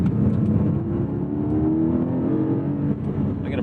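A Porsche 718 Cayman GTS 4.0 engine with sport exhaust engaged drones steadily with a deep, throaty exhaust note, holding a near-constant hum with slight rises in pitch throughout.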